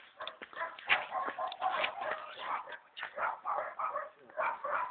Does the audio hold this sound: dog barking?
yes